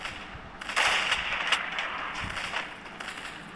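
Gunfire from the battle royale video game Free Fire: a burst of sharp reports near the start, then scattered fainter shots over a steady game background, with no talking.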